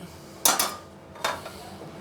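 A small saucepan for spinach is handled in a kitchen, giving two sharp metallic clanks close by, separated by a short quiet gap.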